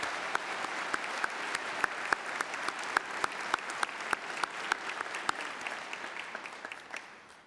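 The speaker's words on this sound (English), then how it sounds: "Will you join me in one more round of applause for the Millikin Faculty Jazz Ensemble?" Sustained crowd applause fills a university commencement ceremony after a faculty jazz ensemble performance, steady dense clapping with sharp individual claps standing out, moderately distant and continuing throughout.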